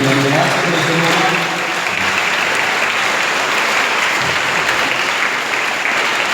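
A church congregation at a Mass at the shrine of Our Lady of Lourdes in Sithamur claps for the altar servers. The sustained, full applause from the gathered crowd is loud and constant throughout, with no voices on top.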